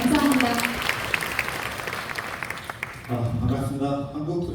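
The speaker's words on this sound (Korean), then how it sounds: "큰 박수로 맞이해 주시기 바랍니다." Audience applause welcoming a presenter at a residents' briefing on a village reconstruction project, a moderate burst of clapping that fades after a few seconds, followed by a voice beginning to speak.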